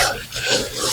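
Fabric being rubbed by hand on a Piper Super Cub wingtip bow, a brief close rasping rub with two swelling strokes.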